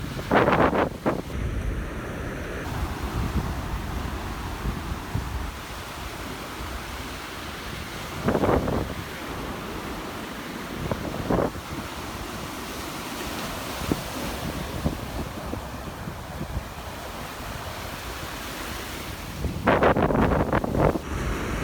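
Strong wind buffeting the microphone near the ocean in Florida, a continuous loud rumbling roar with heavier gusts at the start and end, surf faintly blended underneath.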